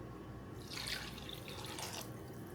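Chicken stock concentrate made with bouillon is poured into a pot for jollof rice, a soft liquid splash and trickle that swells in two short bursts, with no talking.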